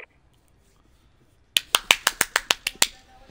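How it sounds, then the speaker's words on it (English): Player character clapping in a first-person shooter, an in-game emote: eight sharp, evenly spaced claps in a quick steady rhythm, close and crisp, starting after a short quiet stretch. "Here, I'm clapping."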